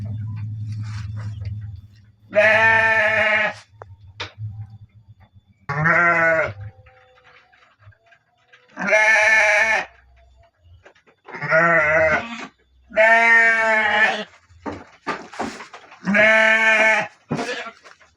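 Sheep bleating in a livestock pen: six loud, drawn-out bleats come at fairly regular intervals, close by, with a low rumble in the first two seconds and no talking.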